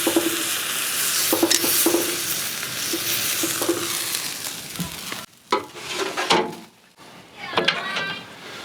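Meat sears and sizzles on a charcoal grill in a close, steady hiss, broken by scraping and handling knocks near the end.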